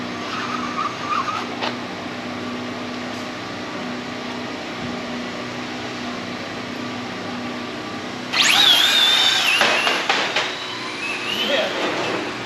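An RC drag racing car makes a run at a drag event, with a sudden loud high-pitched whine and rushing burst after a quieter stretch that fades over a few seconds.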